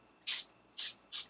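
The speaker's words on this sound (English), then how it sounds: "then I give it a quick spray" Three short hissing bursts of cooking spray onto flatbread in a pan, close and crisp, separated by brief pauses, with the last burst shorter than the others.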